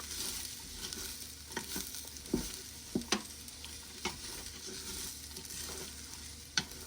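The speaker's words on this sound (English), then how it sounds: "So the next step is to put our onion in. Alrighty, we'll let that saute down." Onions sauté quietly in a pot for beef stew, a soft steady sizzle broken by a few sharp scrapes and taps of a stirring spoon.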